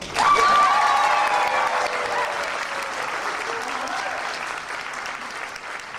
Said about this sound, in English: You can applaud for me if you want.